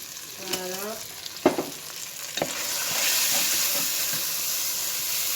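Beef and potatoes frying in a pan with tomato, black pepper and parsley, stirred with a few sharp scrapes and clacks early on, then a steady, louder sizzle that builds and holds, close by and without speech.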